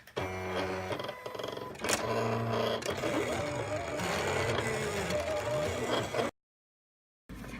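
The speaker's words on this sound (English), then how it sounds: "we're gonna go back to the machine and cut it" A Silhouette Cameo cutting machine slicing cotton fabric loaded on a mat with the blade at setting 3, a close whirring motor hum with shifting mechanical tones and carriage movements, ending briefly before a short pause.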